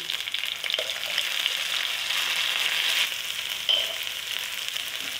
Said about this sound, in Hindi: डाल दें लहसुन अदरक का पेस्ट